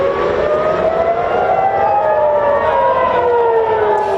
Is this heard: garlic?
no